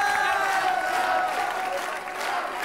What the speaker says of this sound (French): Un applaudissement pour Pascal Olmeta.